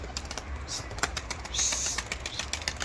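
A tumbler pigeon flaps its wings as it is released by hand, a quick soft fluttering close by, faint against an outdoor background.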